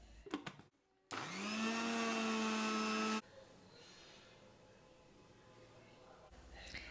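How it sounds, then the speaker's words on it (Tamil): A mixer grinder whirs loudly for about two seconds, blending pepper and milk into an eggless, oil-free mayonnaise, then cuts off abruptly, leaving quiet room noise and faint handling sounds. "மிளகுத்தூள் கொஞ்சம், இதெல்லாம் சேர்த்து மிக்சியில் அரைச்சிக்கணும்."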